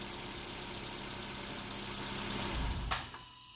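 A 2003 Nissan Sentra engine idles with a steady, even hum, close by, before a brief clunk near the end as it shuts off or something is touched.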